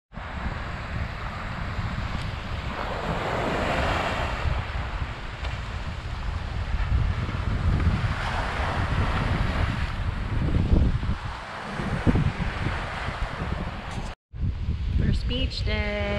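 Wind and surf at a Key West beach in Florida make a steady, loud rush of waves and wind buffeting the microphone, with a brief dropout near the end and voices faintly mixed in.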